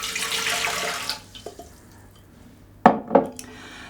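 Lukewarm water pours into a bread machine pot in a brief splashing rush lasting about a second, followed by a few quiet knocks and two sharper clunks.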